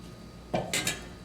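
A utensil scrapes and clinks against a pot while cheese is stirred into a creamy potato mixture: a short scrape followed by two quick metallic knocks, close and fairly quiet.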